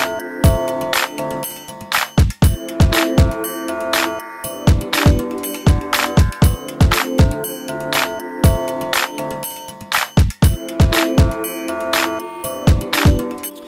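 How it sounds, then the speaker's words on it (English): Layered Logic Pro X loop of punchy kick drum, claps, a busy percussion pattern and a ringing triangle on top, playing in a dense, steady groove without any voices. "what we've got is a kick drum, some claps, a percussion loop, and some sort of triangle on top of that"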